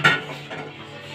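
A metal spoon goes into a glass of hot water with one sharp clink, then a short, soft ringing fades away, close and loud, with no talking.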